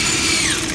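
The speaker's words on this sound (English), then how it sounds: "Good wire wheel with drill on" Wire wheel spun by a drill scrubbing engine parts on an abandoned RX7 rebuild, a steady close, loud, harsh whirring grind with no breaks and no talk.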